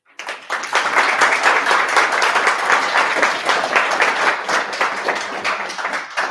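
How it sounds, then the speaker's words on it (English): Applause from an audience at an Angular meetup after a talk, a steady dense clapping that builds quickly and holds at a fairly loud level before easing slightly toward the end, with no speech over it. "I saw not only applause here, but also from online community"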